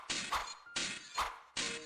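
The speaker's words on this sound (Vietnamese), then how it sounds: "Sau đó xoảng một tiếng vỡ tan trên tường." A bowl smashes and shatters against a wall, heard as repeated loud crashing impacts, about three bursts in quick succession, each with a bright breaking crack followed by a brief rattle of debris.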